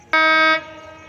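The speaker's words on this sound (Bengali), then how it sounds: "একটি ট্রেনের হুইসেল শুনতে পাচ্ছি।" A single loud, steady whistle blast from the Padma Express train on the Rajshahi to Dhaka line, sounding for about half a second before cutting off, close by and alone.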